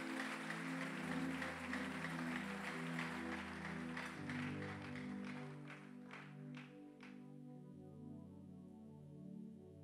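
A church congregation applauds, a steady mass of clapping that thins out and fades partway through, with a sustained organ or keyboard tone running underneath.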